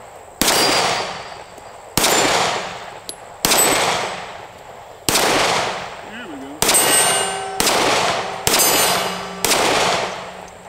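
Eight single pistol shots from a Keltec P15 at an outdoor metal range, each a sharp loud crack followed by a ringing clang off steel targets, spaced one to two seconds apart.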